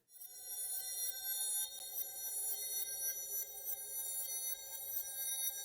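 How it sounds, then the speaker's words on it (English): A layered magical charge-up effect with steady shimmering high tones and sustained harmonic layers, slowly building and holding without pause, no voices. "Sounds like it's slowly charging up like a beam."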